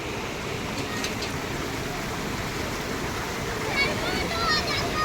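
The Ganges flowing at Haridwar, seen from in front of Dhanush bridge, gives a broad steady rushing wash of water at moderate level, with brief faint sounds over it.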